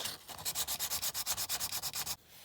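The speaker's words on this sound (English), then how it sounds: "I found a bit of 320 grit, so we'll just see how that goes first. Not as harsh." Die-cast BMC Mini model car, 1964 Monte Carlo Rally livery, being sanded with 320 grit sandpaper: about fifteen quick, even back-and-forth strokes close up, each a crisp raspy rub, stopping abruptly near the end.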